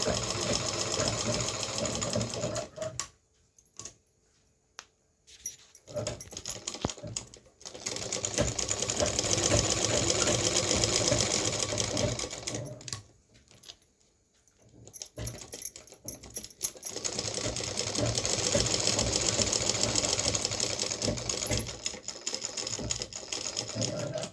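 A foot-operated treadle sewing machine stitches along a belt in steady, fast mechanical runs, stopping briefly twice before starting again, close and loud with no voices.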